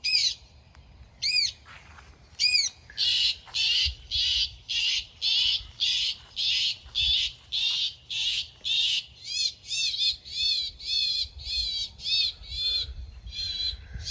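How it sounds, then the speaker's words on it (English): An electronic bird alarm plays repeated loud bird calls in a steady rhythm at a pecan nursery, a few squawks and then a long run of evenly spaced calls, over faint low background noise. "bird alarm that we've got."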